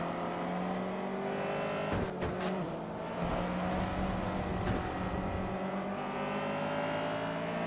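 Honda Integra Type R engine racing in Forza Motorsport 3, a steady droning engine note with harmonic whine held at high revs, a couple of brief gear-shift dips, loud and close with no talk.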